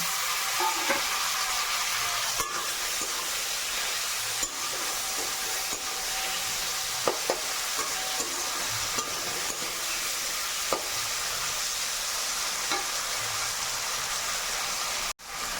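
Spice masala with tomato and green chilli fries in a pan, giving a continuous dense crackling sizzle like light rain, with occasional louder spoon knocks and stirring scrapes, close and unbroken for the whole stretch.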